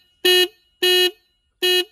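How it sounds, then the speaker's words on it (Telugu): Horn of a 2024 Hero Karizma XMR motorcycle sounds three short, loud, buzzy beeps at uneven intervals, with silence between them and no talking. "హార్న్ సౌండ్ వినండి ఒకసారి."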